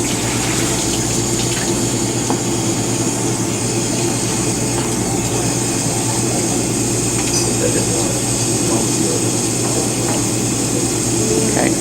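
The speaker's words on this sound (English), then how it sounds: "empty those containers, and we'll put more 45 degree water in them" Water is emptied from lab containers and refilled with 45-degree water for a reaction-rates experiment, a steady, loud rushing and running flow that continues without a break throughout.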